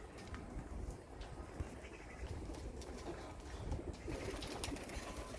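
Domestic pigeons coo softly amid a steady low rumble of outdoor noise, with faint bird calls and occasional light rustles throughout.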